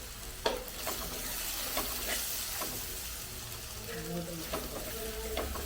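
Onions sautéing with coriander powder in a pan give a faint, continuous sizzle with soft stirring scrapes and occasional taps, quiet and close.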